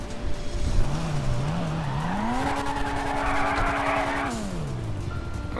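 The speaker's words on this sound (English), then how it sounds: "I shouldn't have burned out like this" A car does a burnout in GTA 5: loud, sustained tire squeal over a revving engine whose pitch climbs, holds high, then drops away.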